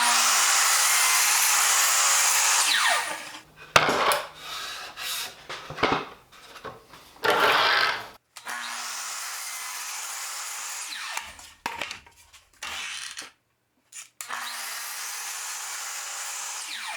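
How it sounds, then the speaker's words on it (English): A miter saw blade making a second flip cut through a wooden board: a steady high whine spins up, dips into several short rough bursts as the blade bites the wood, then winds down, with a second whine after. "I'm going to line up the kerf with the blade and make my second cut."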